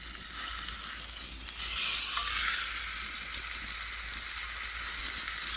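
Steak and vegetables sizzle and fry in a pan over a campfire in the woods, a steady, close hiss with a faint low rumble beneath and no talk.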